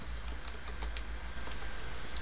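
Keys tapped on a computer keyboard while entering a command at a Linux rescue console, a quick run of light, irregular clicks over steady background hum, close and fairly quiet with no voices.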